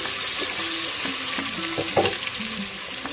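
Onions fry in hot oil for chicken gravy, with a close, continuous sizzle and light crackle, punctuated by a few scraping stirs of a spatula and faint clinks.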